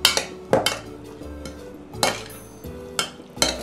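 A spoon stirs pineapple mango salsa with lime juice in a bowl, giving several close, sharp clinks and scrapes at irregular intervals with quieter rustling between them.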